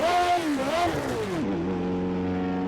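A high-pitched Formula 1 car engine in the racing video game Automobilista 2 screams and shifts pitch up and down, then settles into a steadier drone as it fades into the distance.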